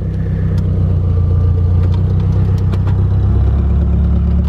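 A 2008 Chrysler Pacifica engine runs steadily at idle while the shifter is moved into reverse, a loud, close low rumble with a few faint clicks and clatters on top.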